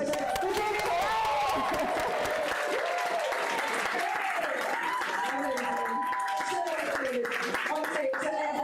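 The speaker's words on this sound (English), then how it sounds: "I want to hear a huge round of applause for our amazing team" A crowd applauds a team after a VAFC versus British Airways match, with steady clapping mixed with cheering and voices throughout.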